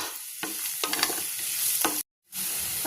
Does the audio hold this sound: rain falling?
no